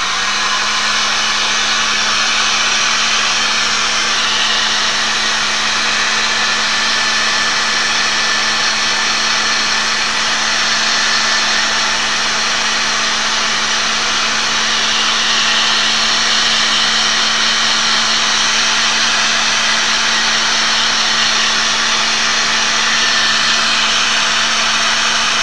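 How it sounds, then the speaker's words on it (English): A small heat gun blows steadily and loudly over wet paint on a mixed media Christmas card, a continuous whirring hiss with a fixed motor hum that runs unbroken and alone throughout. "I'm going to use my little heat gun again"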